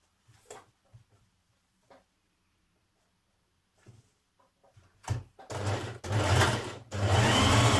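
A home sewing machine stitches the back bands onto a Burda 6223 dress, with a few quiet clicks and short bursts before running loud and continuous in long steady stretches near the end.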